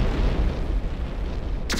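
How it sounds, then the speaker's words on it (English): A vehicle blows up in the X-Com: Apocalypse video game with a dense, low, rumbling explosion that rolls on steadily, ending in a brief bright crackle. "Illegal vehicle destroyed."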